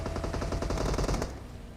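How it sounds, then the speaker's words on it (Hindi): Heavy automatic gunfire rattles in BGMI mobile battle-royale gameplay near a school, with rapid loud bursts of shots for about a second before fading into a quieter tail, no speech. "तो गोलियां चल रही बहुत भयंकर"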